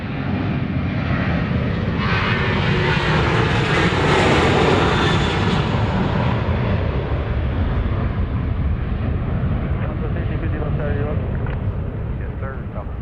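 A Southwest jet takes off from runway 31 right at Dallas Love Field, a steady, loud, broad engine roar that swells and then slowly eases, with radio talk throughout.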